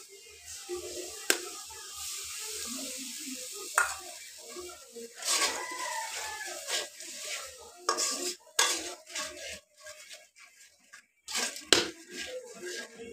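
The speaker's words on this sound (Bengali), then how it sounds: "এবার মশলাগুলো ভালো করে কষিয়ে নেব।" A metal spoon stirs and scrapes spices fried with onion and garlic in a pan, the turmeric, salt and chili having been mixed with water, for a small-fish dish. Irregular clinks and scrapes ring over a faint sizzle, with no talking.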